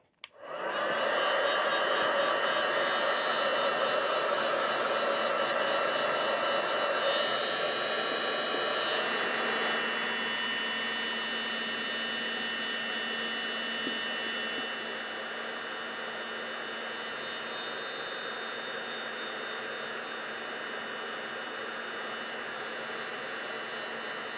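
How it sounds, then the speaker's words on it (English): A heat tool blowing hot air over die-cut pieces, a loud steady whooshing hiss with a faint motor whine that starts abruptly and runs unbroken, easing slightly in level partway through. "I'm going to pop this heat tool on, so if you don't want to hear the sound of the heat tool"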